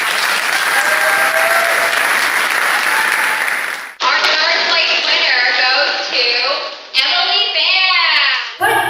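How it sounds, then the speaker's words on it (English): Applause for scholarship recipients at a college live event rises as a dense, loud wash of clapping for about four seconds, then cuts abruptly to other sounds with voices and tonal noise. "Round of applause for our"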